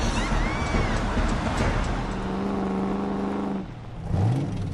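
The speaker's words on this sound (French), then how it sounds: "Les filles sont parties avec nos motos." Motorcycles rev and drive off, a loud, sustained engine drone that shifts pitch as they pull away, followed by a brief rising rev near the end.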